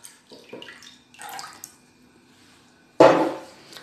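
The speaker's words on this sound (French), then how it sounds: "J'ajoute le lait tiède" Warm milk poured into a bowl of oil for a dough mixture, a short close splashing pour after some quiet clinks and handling noises in a kitchen.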